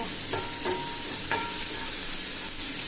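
Tomatoes sautéing with dried fish and salt for Trichy-style karuvadu thokku, a dense continuous sizzle broken by a few sharp spatula scrapes against the pan.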